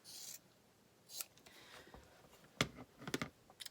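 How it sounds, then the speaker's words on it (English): Scissors trim the fabric of a twisted headwrap in a few quiet, separate snips and crisp cuts spaced unevenly, close and otherwise silent. "This is where my scissors are. So then you can trim."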